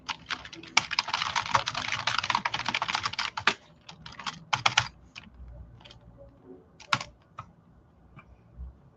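Rapid bursts of typing on a computer keyboard, dense clattering for the first few seconds, then scattered individual keystrokes with pauses, close and fairly clear with no talking.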